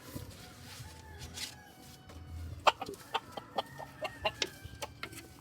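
Gamefowl chickens on a farm cluck in a quick series of sharp, close calls after a quieter stretch, with faint background noise.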